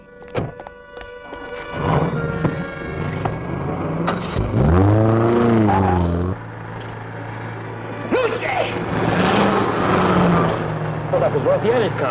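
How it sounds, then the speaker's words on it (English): A car approaches and drives past with a rising then falling engine roar, followed by more engine noise and a thunk, with talking in between. "Oh, that was Rothieri's car."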